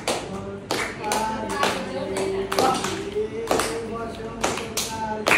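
A group claps steadily in rhythm along to a Bengali song at a casual outdoor gathering, sharp repeated hand claps mixed with singing voices, close and lively.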